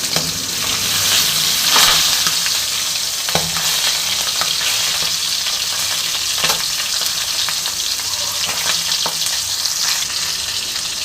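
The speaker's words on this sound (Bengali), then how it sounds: "আমি মাছের তেলটাও দিয়ে দিলাম, আমি এটাও এই মাথার সাথে ভেজে নেব" A fish head fries in fish oil in a pan, loud and close, with a constant sizzling hiss broken by sharp crackles, spits and occasional stirring scrapes.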